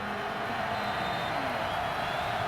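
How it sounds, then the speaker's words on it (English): Steady roar of a football stadium crowd at a Chargers at Chiefs NFL game in Kansas City, a loud, continuous wash of noise with no breaks and faint voices mixed in. "the crowd noise getting to him"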